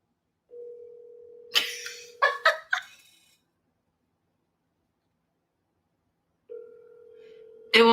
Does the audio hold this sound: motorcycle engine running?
no